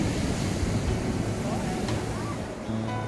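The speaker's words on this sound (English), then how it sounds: "Beautiful beach, you can walk for miles here" Surf washes onto a long Gold Coast beach, a steady broadband roar of waves with some wind noise on the microphone, heard alone and close.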